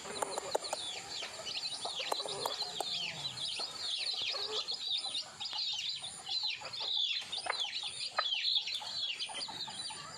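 A Thai game-fowl mother hen (a yellow-feathered brood hen of pure game stock, not a crossbreed) clucks repeatedly alongside other fowl calls, a dense, steady chatter of short chirps and clucks at close range with no talking.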